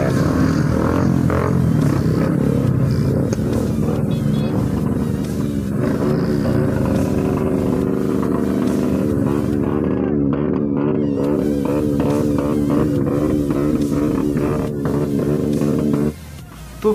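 Superbikes in a dense crowd of bikers at Azad Hind Dhaba in Kolkata on Independence Day, engines droning and revving steadily up close, a continuous layered roar with a drop-off near the end.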